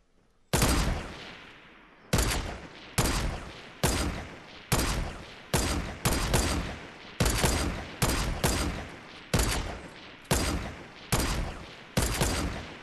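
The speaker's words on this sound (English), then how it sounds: "I shoot top, you shoot bottom." Sniper and revolver gunfire in Fortnite rings out as a steady run of about fourteen loud, booming single shots spaced roughly one second apart, each followed by a short decaying tail, with no talking.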